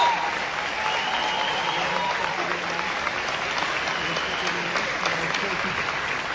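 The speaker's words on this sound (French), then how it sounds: "on va applaudir tous ceux qui viennent d'applaudir, mais très, très, très fort" Loud, sustained applause from a large audience, dense and steady clapping with some cheering mixed in.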